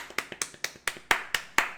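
Irregular claps from a single podcast host, about eight sharp close strikes of varying loudness with no talking between them.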